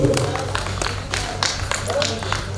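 Scattered hand claps from an audience welcoming Gandla Ravishankar and his wife onto a stage, a loose patter of sharp claps underneath ongoing talk from a speaker.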